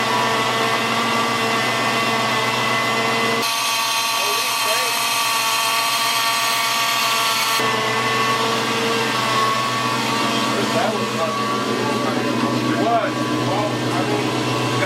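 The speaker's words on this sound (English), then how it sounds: "That power steering pump is a little whiny" A whining power steering pump on a Fox body Mustang with a swapped Coyote engine idles in a steady, continuous mechanical drone with a thin high whine, running nonstop under occasional talk nearby.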